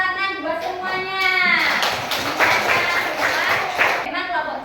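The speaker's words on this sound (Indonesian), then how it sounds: "Tepuk tangan buat semuanya." Children in a classroom clapping together in a burst of applause for everyone, quick scattered hand claps over children's voices and an adult speaking.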